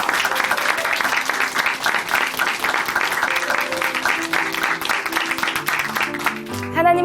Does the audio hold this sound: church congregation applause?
yes